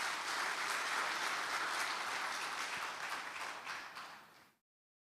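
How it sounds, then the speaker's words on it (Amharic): A church congregation claps for the Lord at a Sunday service, a loud, continuous wash of applause from many hands that fades out near the end. "አጨብጭቡ ለጌታ"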